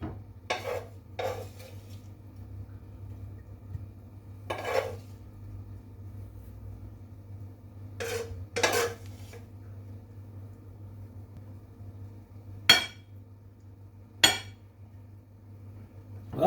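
Dishes and cutlery clink now and then as an oil-free stir fry is plated up, with scattered sharp clatters and scrapes over a quiet low kitchen hum.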